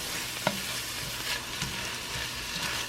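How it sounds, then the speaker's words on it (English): Vegetables saute in a pan, giving a soft, steady sizzle with an occasional faint clink of stirring; no voices. "in here on my veggies, sauteing veggies"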